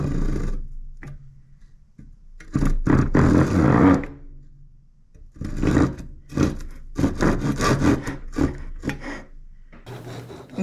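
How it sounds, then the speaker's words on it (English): A handsaw cuts through wood in a workshop in bursts of rasping back-and-forth strokes, loud and close, with short pauses between bouts of sawing. "just to drill a couple of holes and finish the rest with a wonderful handsaw"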